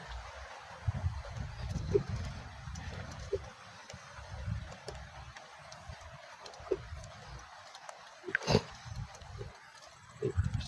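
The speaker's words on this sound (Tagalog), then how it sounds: "May baboy sila." Pigs on a farm give repeated low grunts and oinks in short irregular bursts, fairly close but moderate in volume, with sharp clatters now and then and no clear talk.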